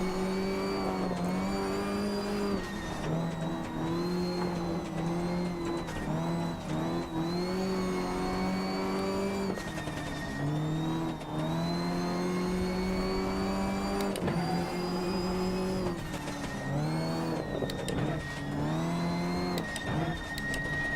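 A rally car on asphalt tires in the Richard Burns Rally game, Wainwright to Falcon Lake stage of the Shell 4000, drones and revs steadily throughout, its engine pitch rising and dropping with gear changes.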